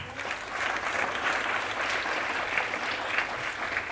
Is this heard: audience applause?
yes